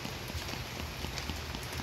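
Steady rain patters down with a dense, continuous hiss and scattered droplet taps, fairly close and uniform throughout, with no voices.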